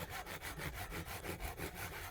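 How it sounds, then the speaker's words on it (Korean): A hand saw cuts through wood with a steady rhythm of rasping strokes, about eight per two seconds. The strokes are close and fairly quiet, with no talk. "잘한다, 톱질. 멋있어."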